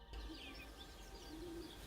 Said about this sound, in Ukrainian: Вам чутно, як тут пташки співають?